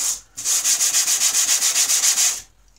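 A sharpening stone for a planer blade rubbed back and forth over sandpaper laid on a piece of glass, about fourteen steady rhythmic gritty strokes, close and loud, with no talk.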